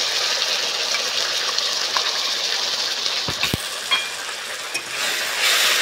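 Ground spice paste frying in a pan for a Bengali begun basanti eggplant dish gives a steady hiss and sizzle, broken midway by a couple of sharp utensil scrapes or knocks, with no one talking.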